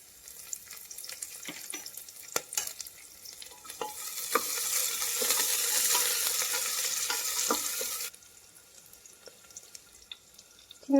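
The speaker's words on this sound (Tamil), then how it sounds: "பச்சை மிளகா போட்டுக்கலாம்." Green chillies hit a hot frying pan with ginger while varagu (kodo millet) porridge is cooked, giving a loud, steady sizzle that swells for several seconds among scattered clinks and stirring, then drops away.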